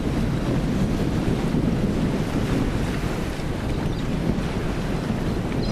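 Steady, strong wind over the lake at Milang on a fairly windy morning, buffeting the microphone in a continuous loud roar with no voices.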